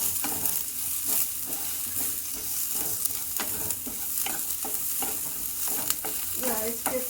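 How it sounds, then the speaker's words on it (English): Hing and seasoning roast in hot oil for a vegetable dalia one-pot meal, a steady close sizzle with constant stirring scrapes throughout, no voices. "The seasoning is actually getting roasted well."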